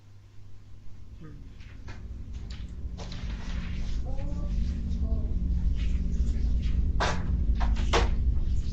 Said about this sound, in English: that squeak was loud